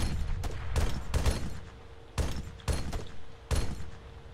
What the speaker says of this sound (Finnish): Jatka ampumista!